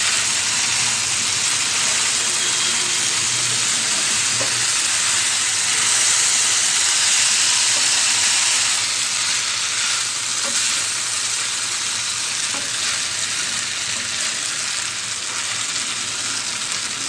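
Boiled macaroni pasta fries in a hot spiced tempering for a masala dish, producing a loud, continuous hiss and sizzle that stays even throughout with faint stirring underneath.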